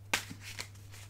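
Tarot cards are being shuffled, giving a few soft, brief riffles and taps that sound close and quiet over a low steady hum, with no talking.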